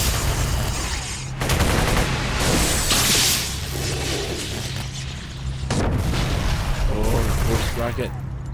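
Rocket explosions and gunfire from the City of Heroes video game, with loud booms and a dense, continuous barrage of bursts throughout, while people talk over the action.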